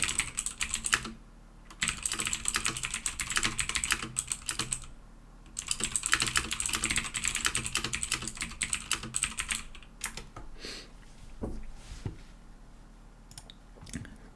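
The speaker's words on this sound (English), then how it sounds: "Getting the ASMR mechanical keyboard noises." Fast bursts of clicky typing on a mechanical keyboard, close and crisp, in several runs separated by short pauses, with scattered single key taps toward the end; no talking.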